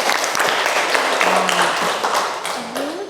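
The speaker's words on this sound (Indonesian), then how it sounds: "Betul sekali, tepuk tangan" Short burst of applause from a classroom audience, a dense crackling patter of clapping with faint voices mixed in, fairly close and steady.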